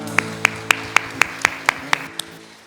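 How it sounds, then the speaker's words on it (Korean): Church congregation clapping together after a hymn at Sunday worship: about nine crisp, evenly spaced claps in a steady beat, with a faint tonal hum underneath and no talking. "우리 주님께 감사와 영광의 박수 올려드리겠습니다"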